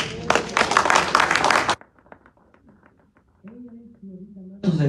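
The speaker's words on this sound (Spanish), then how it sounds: "Un aplauso al Señor" Church congregation bursts into applause, a loud dense clatter of clapping for under two seconds that cuts off abruptly, followed by quieter scattered sounds and a voice speaking.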